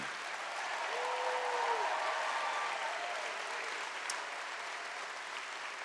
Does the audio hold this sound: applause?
yes